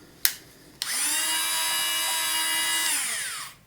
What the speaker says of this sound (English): I'm using the teardrop carbide burr